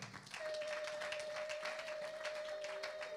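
A church congregation in Lyon applauds steadily, a dense wash of clapping with a sustained tone running beneath it, moderately loud and continuous.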